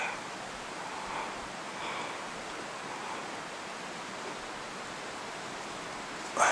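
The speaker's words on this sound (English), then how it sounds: "There's the waterfall." A waterfall and a mountain stream in Big Cottonwood Canyon, Utah, pour in spring snowmelt. The rush is steady and broadband, mid-distance, and runs unbroken throughout.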